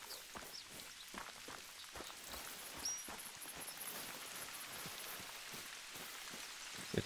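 Steady rain patters across the ground in the hunting game theHunter: Call of the Wild, a dense even hiss with scattered drop ticks that carries on alone for several seconds.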